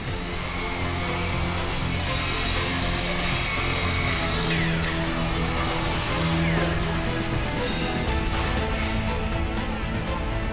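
A loud chainsaw grinds continuously through timber for an arched house, its engine droning with shifting pitch as it cuts, no voices present.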